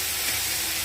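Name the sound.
chicken being sautéed in oil with spice paste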